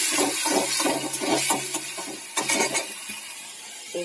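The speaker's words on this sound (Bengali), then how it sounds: "আমটা একটু ভালো করে নেড়ে নেওয়ার পরে নুন আর হলুদ দিয়ে দিয়েছি।" Pieces of raw mango are stirred as they fry in a pan with salt and turmeric, a close, rhythmic series of scraping strokes with a faint sizzle underneath.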